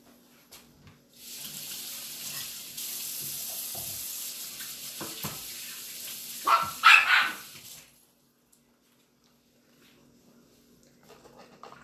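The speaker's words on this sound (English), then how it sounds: "excuse me while I go wash my hands" A kitchen tap runs into a sink as hands are washed after making bruschetta, a steady rush of water for several seconds with splashing near the end, then it shuts off; a dog barks faintly in the background.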